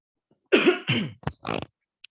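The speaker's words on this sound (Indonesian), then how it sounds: "saya masih batuk-batuk ini" A few close coughs in a short burst, rough and throaty, with brief pauses between them in a quiet room.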